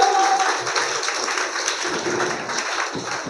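An audience at a public gathering claps in welcome, a dense, steady patter of many hands that carries through the whole stretch at a fairly loud level.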